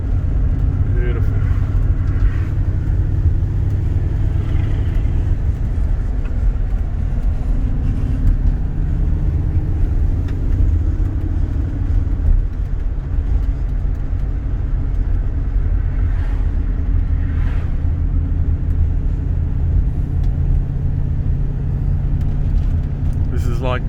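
A 1969 Ford Falcon XW GT Silver Fox with a 351 V8, heard from the back seat while driving, gives a loud, steady low engine rumble throughout, with voices talking over it.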